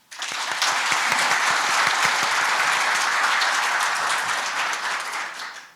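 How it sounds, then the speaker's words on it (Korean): Warm, sustained applause from employees at Shinhan Fund Partners' ceremony marking its company name change and office relocation. Many hands clap evenly for several seconds before it tapers off. "큰 박수를 한번 보내주셨으면 좋겠습니다"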